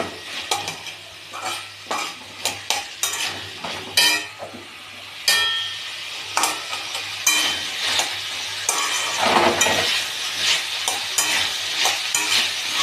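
Vegetables are stir-fried in a wok over a steady sizzle, with frequent clinks and scrapes of a metal spatula stirring and tossing them, close up, for nearly thirteen seconds with no talking.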